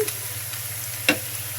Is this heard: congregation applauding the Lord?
no